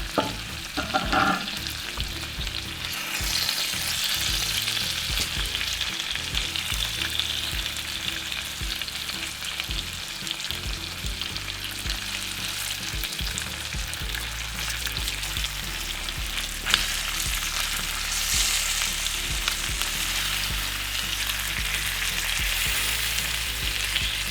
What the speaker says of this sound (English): Okay, I'm going to flip the chicken over.